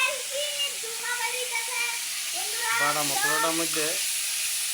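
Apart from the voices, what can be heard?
spice paste sizzling in hot oil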